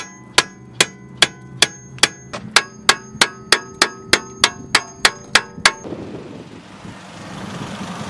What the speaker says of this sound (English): A little hammer action is all you need